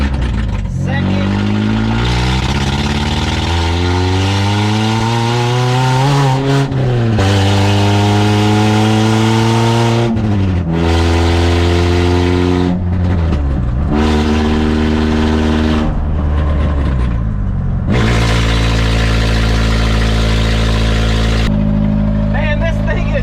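A 1985 Ford Ranger body on a 2002 chassis drives along a road, its engine loud and close, revving up through repeated rising gear pulls with brief dips at each shift.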